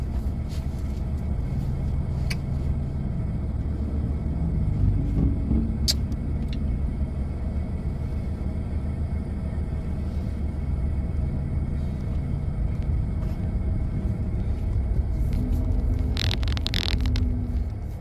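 Road traffic from cars heard from inside a vehicle, a constant low engine and road rumble with faint passing vehicles and occasional clicks and squeaks, steady throughout.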